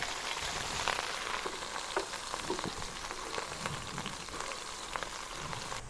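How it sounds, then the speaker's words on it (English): Steady, crackling sizzle of ground beef frying in a pot, with scattered pops and a soft hiss throughout; no voices. "once it starts getting a little sizzle, we'll flip it."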